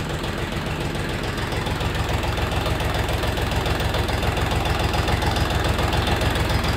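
Kentavr Chinese mini tractor with a KM38 diesel engine idling after a fuel pump oil change, a steady close, loud knocking chug with even rhythm throughout.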